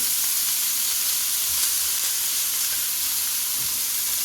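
Onions sizzle and fry in a pan with a loud, steady hiss, occasional soft scrapes and knocks as a spoon stirs and spreads them around.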